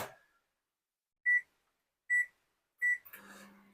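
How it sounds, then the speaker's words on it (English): Three evenly spaced, high electronic microwave beeps ring out in a quiet room, followed by a brief clunk and rattle as the door opens. "So now I'm just going to put this curry sauce into the microwave."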